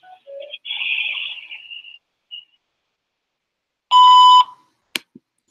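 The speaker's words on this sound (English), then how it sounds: "That's a long one, right? A long beep." A long voicemail beep follows an answering machine greeting, a single loud steady electronic tone lasting about half a second, preceded by faint chirps and followed by brief clicks.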